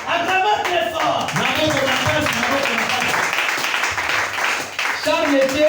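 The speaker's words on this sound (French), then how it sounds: "Acclamez très fort." Audience applauding loudly at a church sermon, sustained clapping from many hands over a steady few seconds, with a voice speaking over it throughout.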